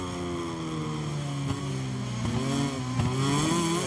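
Motorcycle engine in MotoGP 23 on PS5, a steady loud drone with harmonics that sag and rise as the bike brakes and revs through corners, with brief thumps along the way.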